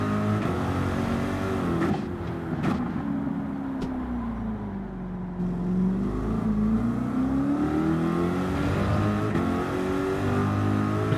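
A Subaru race car engine in the Gran Turismo racing game drones and revs steadily, pitch rising and falling through shifts and corners, loud and continuous with sharp clicks scattered in and no talking.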